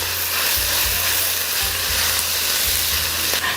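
Mushrooms, bacon and thyme fry in a pan with a steady, close sizzle, broken by soft low bumps as the mix is tossed and stirred.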